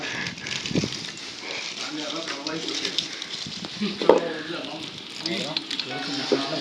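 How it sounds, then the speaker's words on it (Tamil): Chicken pieces frying in a pan for curry, giving a steady broadband sizzle with small crackles and occasional stirring clinks, while people talk nearby. "பொன்னிறமா அப்படியே பொரியுது."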